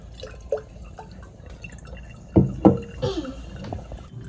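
Water poured into a container, giving a few gurgling, bubbling splashes and drips, with a louder cluster of pours in the middle, close by.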